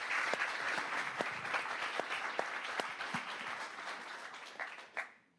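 Audience applause for a panel at a traffic enforcement policy convening, a dense steady wash of many hands clapping close by for several seconds before tapering off near the end.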